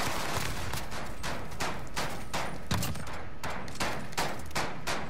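Gunfire in Call of Duty: Modern Warfare, rapid bursts of shots in a steady driving rhythm, loud and continuous across the whole stretch with no speech over it.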